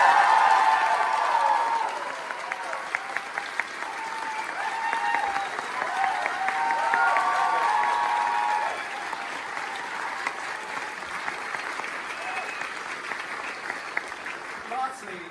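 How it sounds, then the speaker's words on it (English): Audience applause at the curtain call after the final stage performance of Your Lie In April, a thick, sustained wash of many hands clapping throughout a large hall, continuing at an even level with speech woven in. "So give yourselves a big round of applause."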